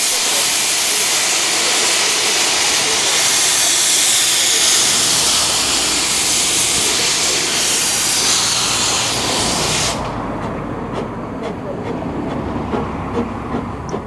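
A Talyllyn Railway steam locomotive departs Wharf Station with a loud, close roar of hissing steam for about ten seconds, then settles into a quieter rumbling chuff with soft clanks.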